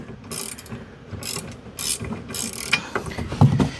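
Ratcheting clicks and metallic mechanical rattles come in short bursts up close as an offset gooseball hitch is tightened and keeps spinning, with scraping metal and a heavier clunk toward the end.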